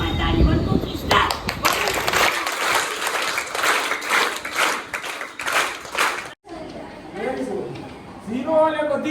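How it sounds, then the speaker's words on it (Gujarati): A group of schoolchildren claps in a rhythmic, patterned style for a visiting vlogger, loud bursts of claps that break off abruptly, followed by voices talking and a dog barking. "આનંદભાઈ સાતા માટે આપણી સ્ટાઇલમાં તાળી 1 2 3 સ્ટાર્ટ"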